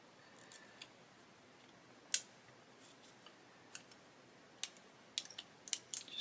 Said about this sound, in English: Just basically going in piece by piece, slicing it away.